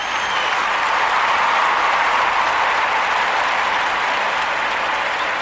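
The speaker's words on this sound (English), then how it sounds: "Now we give him a round of applause" A crowd gives a round of applause to a returning guest, loud and sustained clapping from many hands, thick and even from start to finish with no talk over it.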